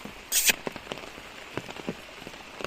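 Light rain patters with scattered drops ticking on a surface, plus one brief louder splash or rustle near the start.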